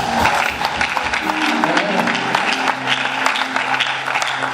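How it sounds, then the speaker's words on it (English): A church congregation claps for the pastor, a dense, steady patter of many hands over a few seconds in a reverberant hall, with faint voices underneath. "Clap for me again."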